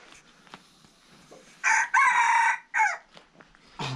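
Rooster or jungle fowl crowing loudly and close in a Hmong village in Laos, one long drawn-out crow with a brief lead-in and a shorter follow-up call, over quiet outdoor background.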